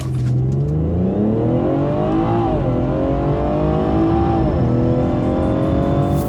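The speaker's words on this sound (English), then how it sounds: "I went ahead and did a 0 to 60 using Draggy on the street" A BMW F30 340i xDrive pulls hard from a stop to 60 mph on a street, the engine note climbing through rising revs with two clear upshifts, loud and close throughout.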